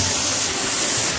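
Loud, dense rush of the Jirikinding waterfall pouring into a jungle cave, a close, unbroken hiss and roar of heavy water with no voices.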